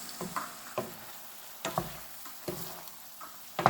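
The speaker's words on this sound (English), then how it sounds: "it cooks very fast than the other eggplants" Japanese eggplant sautéing in a pan, a soft sizzle with occasional stirring scrapes and light ticks, quiet and close.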